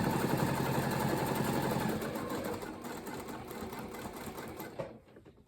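A home sewing machine stitches cotton reusable napkins in a steady, fast mechanical whir that gradually slows, ending with a brief clunk as the needle stops and the presser foot lifts.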